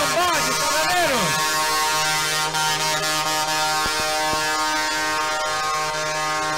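Air horns on trucks from a truckers' group blare at a 7 de Setembro independence day parade in Pomerode, a loud sustained chorus of overlapping tones with a rising-falling wail at the start, continuous throughout.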